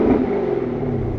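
A 2020 Chevy Camaro ZL1 1LE engine revs in park in a steady, loud rumble with low clattering texture, holding at a high pitch for a moment.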